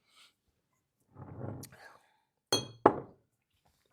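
Glass whiskey bottles of rye clink together in a couple of sharp, bright knocks after a soft rustle, close and fairly quiet.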